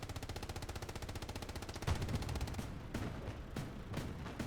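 Rapid-fire cannon of a Luchs light tank in Hell Let Loose pounds out a fast, steady stream of shots clearing infantry from a factory, then breaks into a few slower, spaced heavy reports.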